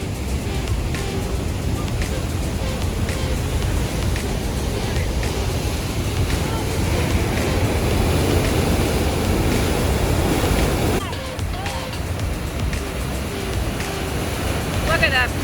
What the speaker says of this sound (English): It's right over some very thundering, crashing waterfalls.